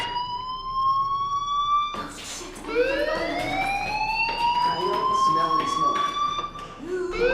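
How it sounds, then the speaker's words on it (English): A fire alarm wails in the Life is Strange video game, a loud electronic tone that rises and falls in sweeping cycles, with a brief clatter partway through and a voice speaking faintly beneath it. "do you hear that fire alarm? That means you should be outside."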